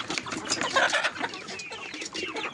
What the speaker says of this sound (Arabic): لان الفراخ البلدي دي ما شاء الله عليها